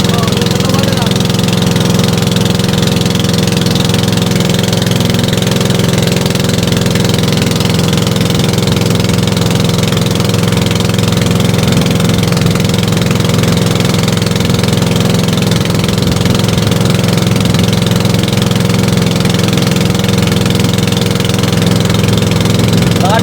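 A loud, steady rear-mounted boat engine idles continuously with a low, even rumble and chugging throb, voices faintly audible beneath it.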